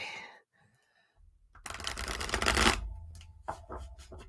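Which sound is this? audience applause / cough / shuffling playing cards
shuffling playing cards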